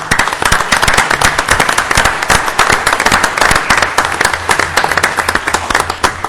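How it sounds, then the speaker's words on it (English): Audience at a city council meeting clapping after a motion carries, a dense, loud burst of applause from many hands that stays steady throughout. "Now you can clap."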